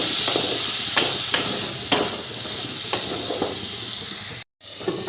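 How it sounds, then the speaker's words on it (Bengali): Pointed gourd pieces sizzle steadily in a pan with salt and turmeric, a close, even frying hiss broken by a few light clicks of a stirring utensil and one brief gap near the end. "এবার আমি পটলগুলো খুব ভালো করে ভেজে নেব নুন হলুদ দিয়ে"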